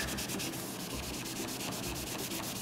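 Window glass on a car being polished with compound to strip water-scale spots, a continuous close rhythmic rubbing and scrubbing with quick back-and-forth strokes, steady and loud with no talking.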